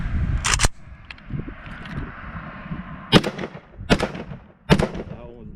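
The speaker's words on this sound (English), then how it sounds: "All right, so shooting the AK," An AK rifle fires four sharp, loud shots outdoors, irregularly spaced, the first two in quick succession and the last three about a second apart, with a voice murmuring between them.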